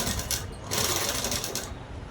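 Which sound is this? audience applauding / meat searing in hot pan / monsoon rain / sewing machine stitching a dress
sewing machine stitching a dress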